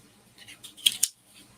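Scissors cut through coffee-stained paper, a few close, crisp snips that build to two sharp cuts in quick succession.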